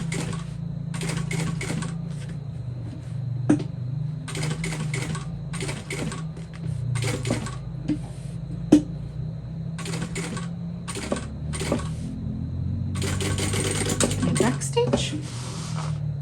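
A sewing machine stitches a second row of topstitching along a curve on a bowler bag, running slowly in repeated short bursts with brief pauses between them, close and steady at moderate loudness.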